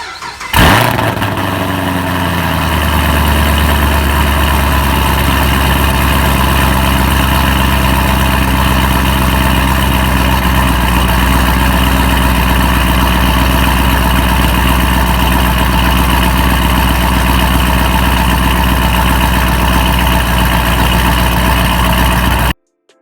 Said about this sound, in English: Let me get you a cold start.